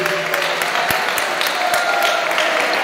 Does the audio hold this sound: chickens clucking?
no